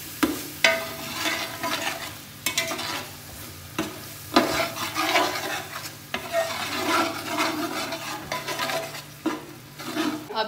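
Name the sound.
stirring chana pulao in a pot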